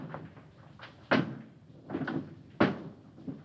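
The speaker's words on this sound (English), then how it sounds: "And throw the last switch." Two heavy mechanical clunks from a large switch being thrown sound up close, spaced about a second and a half apart, with lighter knocks and shuffling in between and no talking.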